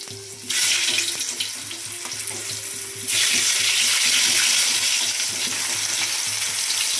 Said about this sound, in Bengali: প্রথমে আলুগুলো ভেজে নেব